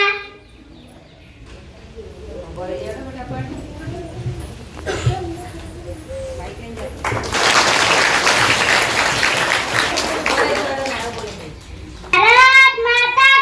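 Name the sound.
audience applause after a school children's play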